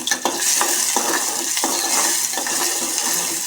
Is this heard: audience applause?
no